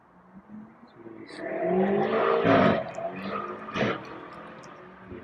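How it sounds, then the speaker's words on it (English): Road traffic outside at night, with cars passing by one after another, their engines swelling and fading, heard fairly faint and distant, with no voices. "Traffic is really loud tonight."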